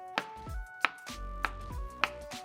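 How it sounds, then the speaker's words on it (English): Trimmed shiitake mushrooms sliced with a kitchen knife on a cutting board, four crisp, evenly spaced knife strikes close up, each with a soft thud as the blade meets the board. "So we've got our shiitakes trimmed down. I'm gonna go ahead and slice these up."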